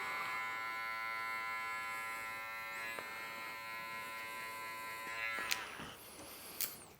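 Electric hair clippers buzz steadily up close while cutting hair for a burst fade mullet, a continuous hum that briefly changes near the end with a couple of faint clicks.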